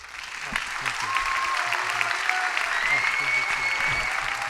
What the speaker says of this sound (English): can we please have a round of applause for Aryan Kapoor